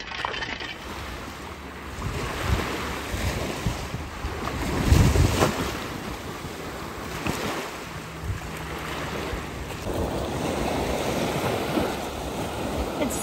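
Ocean waves wash steadily onto a Florida beach on an overcast, hot day. Broadband surf noise rolls on and swells in the middle, with some wind rumble and no talking.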